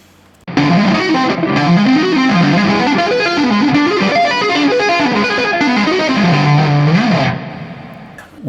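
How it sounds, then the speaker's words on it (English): An electric guitar played through a distortion effect, a loud, saturated run of melodic patterns that moves steadily for about seven seconds and then cuts off into quiet. "let's put some distortion"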